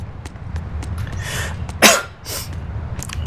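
A single sharp, loud cough bursts out from a person nearby, followed by a softer breathy after-sound, over a steady low background hum with faint clicks.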